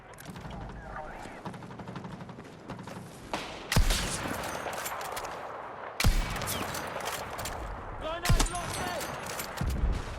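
Sniper rifle shots ring out in Battlefield 6 on the Wake Island map, three or four sharp, loud cracks spaced a couple of seconds apart amid steady battle noise and a voice talking.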